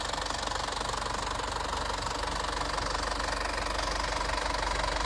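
An Isuzu Adventure 3.0 diesel with automatic 4x4 and 69,000 km idles steadily. Its close, continuous diesel clatter and hum holds an even, rapid knocking rhythm throughout, with no voices.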